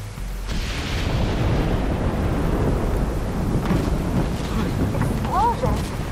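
A deep, rumbling explosion booms in The Division 2 and rolls on as a sustained low roar for several seconds, loud and close, with faint voices mixed in.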